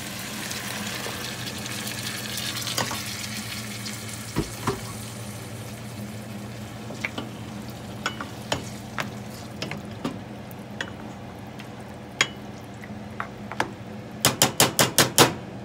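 Salsa poured over cooked nopales with pork ribs sizzles and bubbles in a pan, a continuous frying hiss broken by scattered sharp pops and clicks that grow into a quick burst of taps at the end.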